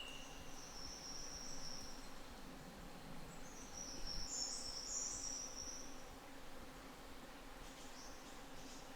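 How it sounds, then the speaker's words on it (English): A cicada calling in forest at Binna Burra, Queensland, a high steady buzzing trill that swells and fades over a constant background chorus of insects, fairly faint and distant with no talking. "I have a cicada there."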